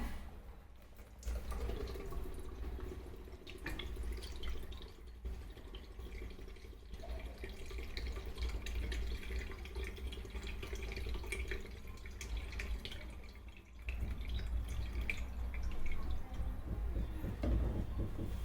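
Coconut water trickles and drips steadily from a coconut for a long stretch, a soft continuous pouring with small splashes, close by and fairly quiet, no talking.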